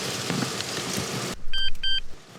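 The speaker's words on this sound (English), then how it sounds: "There, did you hear a beep?" Short electronic double beep from a key programmer plugged into a 2008–2012 Honda Accord, following a burst of broadband noise.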